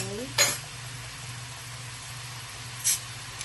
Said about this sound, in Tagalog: Halo-haloin natin